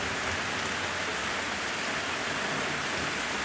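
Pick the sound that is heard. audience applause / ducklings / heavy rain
heavy rain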